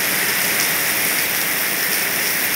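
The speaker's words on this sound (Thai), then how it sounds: "ฝนตก" Heavy rain pours steadily, a constant dense hiss of drops on surfaces with no pauses or voices.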